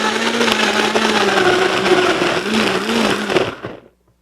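A Vitamix blender chopping garlic roars loudly at full speed with a wavering whine, then cuts off abruptly and winds down to silence.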